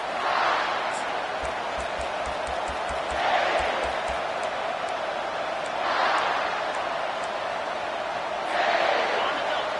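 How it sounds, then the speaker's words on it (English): A large football stadium crowd roars loudly, its cheering swelling in repeated waves, with a few thumps in the background. "This crowd, full throat, splitting the eardrums and letting them know it's going to be a long day."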